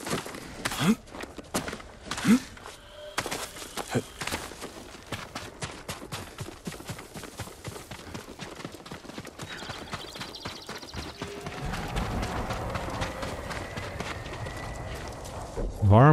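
Rhythmic horse hooves clip-clop steadily throughout in Ghost of Tsushima, with a voice talking in Dutch over them and a louder rush toward the end.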